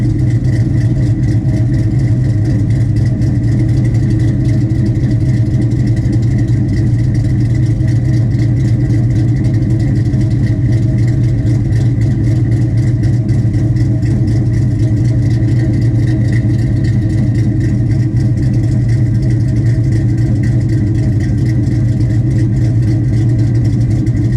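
A 2001 Ford Mustang GT with the 4.6 2V V8 and a choppy cam idles steadily and loudly with a lumpy, uneven rumble, unbroken throughout with no talk.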